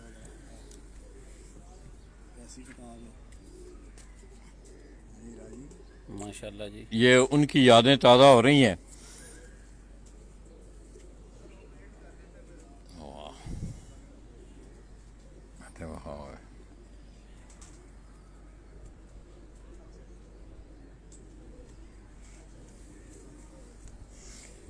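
Khaki pigeons coo on a rooftop in Lahore. A loud, close burst of cooing rises alone in the middle, with a few fainter coos later, while someone talks over quiet background.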